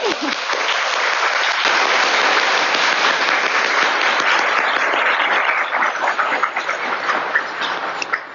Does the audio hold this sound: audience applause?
yes